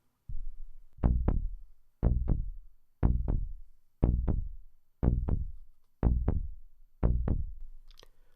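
Deep synth bass notes plucked in pairs, one pair each second in a steady repeating pattern, each decaying quickly, with nothing else playing.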